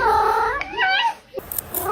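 A cat gives loud, close, drawn-out meows with wavering pitch, one after another, ending in a shorter cry among a few faint background clicks.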